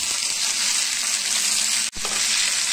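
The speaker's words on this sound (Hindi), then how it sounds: "प्याज हल्के से भुनने के बाद मैं इसमें डालूंगी टमाटर" Chopped tomatoes hit lightly sautéed onions in a hot pan, producing a loud, dense, continuous sizzle with a brief gap near the end before the frying hiss resumes.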